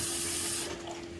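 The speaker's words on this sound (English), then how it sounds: "I'm going to add a little more water" Water running from a tap into a pan of refried beans, a short close hissing pour that tapers off after a moment, with no talk.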